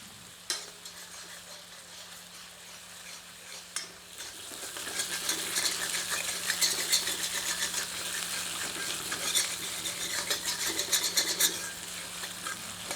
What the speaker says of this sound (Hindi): तदोपरांत इसमें 2 टेबलस्पून ताज़ा पिसा अदरक लहसुन का मिश्रण सम्मिलित करते हैं। मिलाकर 1 मिनट मध्यम आंच पर भूनते हैं।